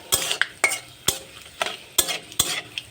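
Panch phoron spices sizzle in hot oil in a pan while a utensil stirs in sharp, regular scraping strokes, about six in quick succession, close and clear.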